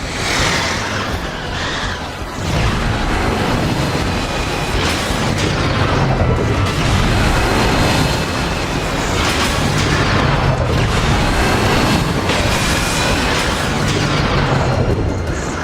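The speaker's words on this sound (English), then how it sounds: "Watch those missiles!" Missiles exploding in a Transformers: War for Cybertron cutscene, a loud, continuous barrage of booms and blasts with repeated impacts over rumbling noise and no voices.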